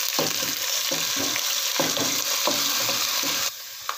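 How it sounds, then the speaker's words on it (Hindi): Garlic ginger paste sizzles in a frying pan while a spoon stirs it, steady frying hiss with rhythmic scraping strokes every half second, close and alone. "अब हम इसमें लहसुन अदरक का पेस्ट ऐड कर देंगे और चम्मच की मदद से अच्छी तरह मिक्स कर लेंगे"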